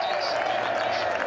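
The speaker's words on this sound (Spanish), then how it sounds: "Ovación y algunos hasta entre lágrimas." A football crowd in Mendoza, Argentina, roars in continuous applause and cheering as Maradona takes the field, a dense, steady wash of sound with no pauses.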